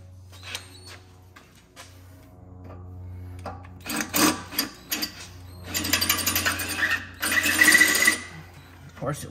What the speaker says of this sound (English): it wants to spin while I'm trying to drill it.